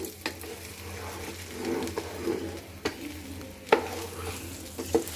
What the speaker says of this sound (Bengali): এখানে আমি ভালো মতো মিক্স করে নিচ্ছে